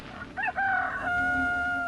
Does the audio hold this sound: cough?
no